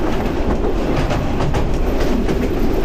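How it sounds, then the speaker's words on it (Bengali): An early-morning Dinajpur commuter train rolls along the rails, heard from inside a coach as a constant loud rumble with a light rhythmic clickety-clack of wheels over the joints. "দারুণ সাত সকালের ট্রেন জার্নি"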